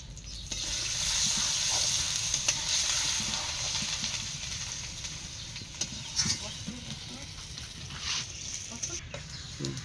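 A Bengali tempering of bay leaf, chili and cumin sizzles in hot oil, a steady hiss lasting several seconds with small pops, heard under a voice talking.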